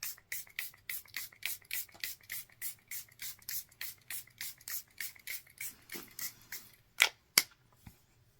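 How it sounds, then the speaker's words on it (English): Powder melt setting spray misted onto a face during makeup application: a rapid run of about two dozen short, evenly spaced hissing spritzes close by, followed by a couple of sharper clicks near the end. "I'm going to take my powder melt setting spray"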